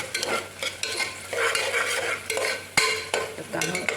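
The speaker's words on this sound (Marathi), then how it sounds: "कुकरान तेल 4 चमचे तेल घातला आणि तो कांदो तळसुपाक घातला." Finely chopped onions fry in four spoons of oil inside a pressure cooker for chicken masala. A close, crackling sizzle is broken by repeated scraping strokes of a spoon stirring against the metal, with no talking.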